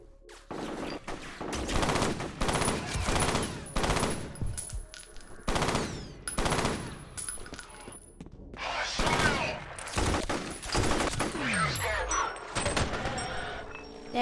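Gunfire from the F.E.A.R. video game, sustained bursts of rapid shots spending the last bullets, loud and close, with brief pauses between volleys and crashing debris toward the end.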